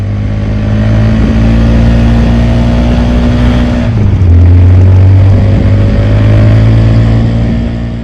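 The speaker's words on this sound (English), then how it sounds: "emits a distinct and very unpleasant whine or rattle under acceleration. It's a kind of a shrill metallic sound that drives me mad." Honda ADV350 maxi scooter accelerating, its engine drone rising steadily with a shrill metallic whine riding on top, loud and close, dipping briefly midway before climbing again.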